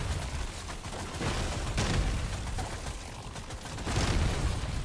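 Explosions go off during a Magma Core run in Deep Rock Galactic: Survivor. Dense, loud, rumbling blasts overlap into a continuous roar, with a heavier burst near the end.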